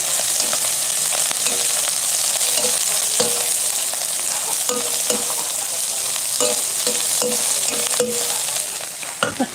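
Grasshoppers fry in a pan to a crisp, giving a loud, continuous sizzle with repeated scraping and clattering as they are stirred.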